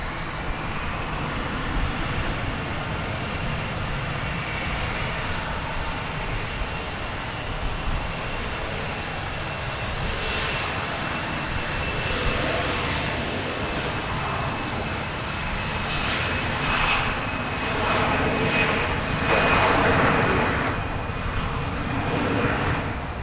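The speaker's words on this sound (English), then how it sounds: "we should be getting very close to the Japan Airlines arrival" A Japan Airlines airliner arriving at DFW Airport gives a continuous, loud engine roar that swells gradually toward the end, with a faint steady whine on top and no talk.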